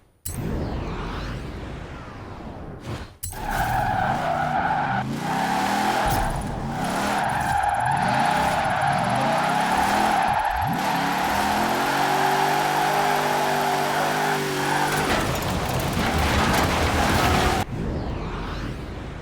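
In the video game Forza Horizon 4, a GMC Typhoon drifts with its tires skidding and squealing in long sweeping screeches over a loud engine drone, and a few louder whooshes come as the car slides through corners.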